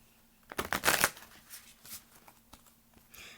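Tarot cards are shuffled in a quick riffling burst, close and crisp, followed by softer card handling and light taps.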